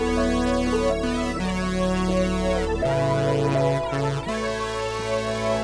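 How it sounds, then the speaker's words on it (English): A bright Juno synthesizer lead melody plays over dense layered synth chords and bass, loud and continuous without any voices. "I grabbed the second Juno synth to make a lead melody"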